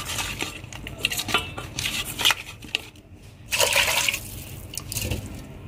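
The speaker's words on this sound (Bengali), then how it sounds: "এখানে আমি সজনে ডাঁটাটা কেটে ধুয়ে রাখছি।" Cut drumstick vegetable pieces are washed in water in a metal pot, with close clinks and clatter of the vessel, sloshing and splashing, and a brief lull midway; no talking.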